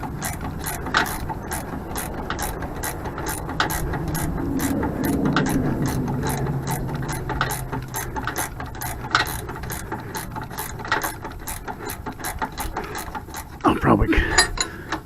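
Ratchet wrench turning bolts during a sway bar installation under a vehicle, a fast continuous series of clicking pawl strokes up close, with a faint voice murmuring underneath.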